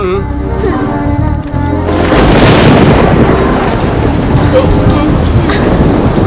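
Steady heavy rain pours down loudly, with deep rumbling that fits thunder beneath it, continuing throughout after a brief stretch of other sound at the start.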